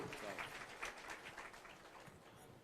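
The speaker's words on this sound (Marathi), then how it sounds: "एकदा जोरदार टाळ्यांचा गजर करूया" Applause at an inauguration ceremony for an old-age home, welcoming a speaker: a faint, distant wash of clapping from an audience, steady and soft throughout.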